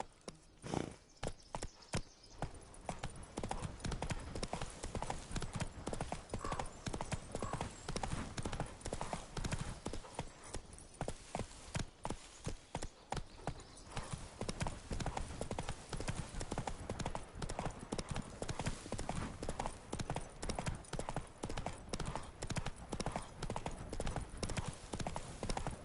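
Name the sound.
horse Roach hooves clip-clopping in the video game The Witcher 3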